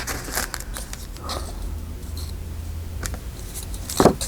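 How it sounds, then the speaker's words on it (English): Scissors snip through paper for a recipe journal cover in a few quick, close cuts amid faint handling noise, no talking over them. "So this one will need to be cut there and there."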